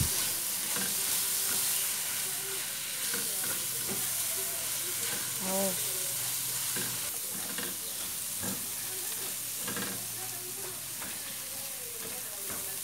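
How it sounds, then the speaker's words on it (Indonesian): Spice paste with ginger and galangal stir-fried in a pan, a steady loud sizzle and frying hiss with repeated spatula scrapes and stirring clatter throughout, close and continuous. "Kemudian tumis kembali bumbunya hingga benar-benar matang dan harum."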